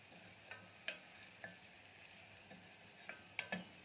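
Garlic frying in a pan, turned repeatedly until golden: quiet background sizzle broken by soft scraping and tapping stir strokes about every half second, faint and without speech.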